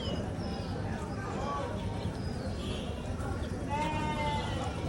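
A goat bleats several times at a busy village bird and livestock market, its calls rising over a dense crowd murmur and nearby voices.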